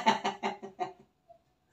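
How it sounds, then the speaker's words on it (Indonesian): A rooster or hen gives a short series of about five rhythmic clucking calls, close and clear, then falls quiet. "Burung."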